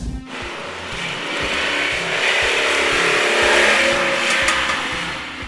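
A 1985 Lamborghini Jalpa engine drones loudly and steadily from inside the car while driving, rising slightly as it accelerates and holding a constant roar throughout, with no voices.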